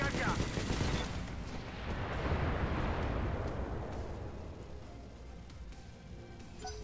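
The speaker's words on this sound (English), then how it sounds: "Firing everything I've got." A BATTLETECH mech unloads every weapon at a Jenner: a heavy roaring barrage of blasts and rumbling explosions that swells early and slowly decays into a long fading rumble, with no talk over it.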